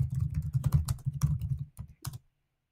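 A computer keyboard clicks in a quick, irregular burst of keystrokes as someone types an email address into an online form. The keys sound close and clear, then fall silent for the last half second.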